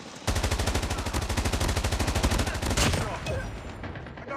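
The AK117 Dragon's Breath in COD Mobile fires a long, rapid automatic burst of loud, evenly spaced shots, then the fire trails off into a fading tail.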